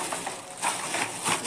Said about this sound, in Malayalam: കവറിലിട്ടിട്ട് ഈ തോട് നന്നായിട്ട് പൊടിച്ചെടുക്കണം